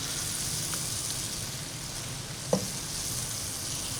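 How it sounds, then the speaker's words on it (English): Mushrooms and onions cook on a grill with a steady, soft sizzle that runs throughout, broken by one brief clink partway through. "I've been cooking some mushrooms and onions."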